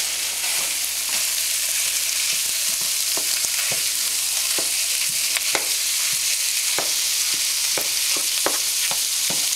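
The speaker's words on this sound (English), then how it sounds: "I will just break up my ground beef here a little bit." Ground beef sizzles steadily in a hot pan for a shepherd's pie while a utensil scrapes and breaks it up, producing irregular close clicks and taps over the continuous frying hiss.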